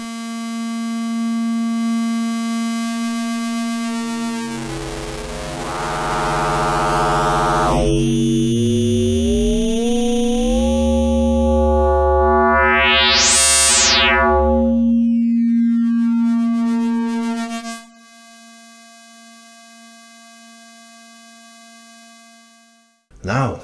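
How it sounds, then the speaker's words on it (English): Polygogo synthesizer module with its wave fold function engaged, a sustained buzzy tone with rich harmonics that shifts and sweeps, including a rising and falling pitch glide, then settles into a steady drone before a brief click at the end. "a fold function is also built in, which overflows the wave to the other side by giving crisp and large sound."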